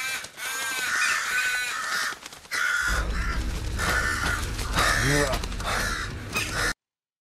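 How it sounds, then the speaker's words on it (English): Crows caw repeatedly in a post-apocalyptic abandoned world of the video game Once Alive, harsh calls coming in bursts over a steady low rumble, loud and close. "Oh no. Crows."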